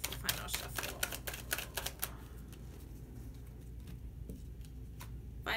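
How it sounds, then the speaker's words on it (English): A deck of cards shuffled by hand, a quick burst of crisp riffling clicks that thins into a few scattered soft snaps, close and fairly quiet. "Final shuffle, final shuffle."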